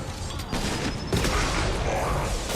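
Gunfire from a firefight in Mass Effect 2, a steady barrage of shots with heavier booming impacts near the middle, heard close and loud without voices.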